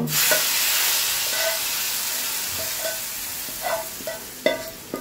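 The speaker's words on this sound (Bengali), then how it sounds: "রসুন পেঁয়াজ ভাজা হয়ে গেছে, সবজিটাই দিয়ে দিব" Vegetables going into hot oil with fried chopped garlic and onion for a vegetable curry tempering, giving a steady loud sizzle with a few scraping stirs and clinks toward the end, no talking.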